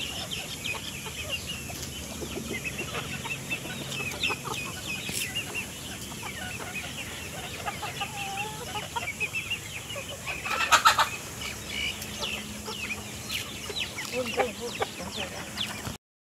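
Village chickens cluck softly and intermittently while being fed, against a constant background hum, with an occasional louder squawk partway through.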